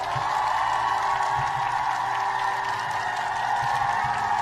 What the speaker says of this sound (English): All right, let's give her a cheer. Where's the cheer? There we go.